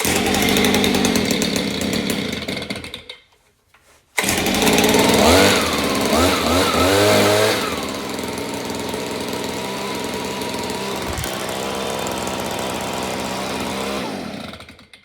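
A Stihl BG85 leaf blower's small two-stroke engine pulls over, catches after a brief gap and settles into a loud, steady buzzing run close by, with a few throttle swells early on.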